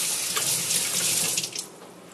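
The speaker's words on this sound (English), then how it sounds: "and then wash away the old slurries" A tap runs strongly to rinse old slurry off a straight razor and an artificial whetstone, a loud steady gush of close water that eases off toward the end.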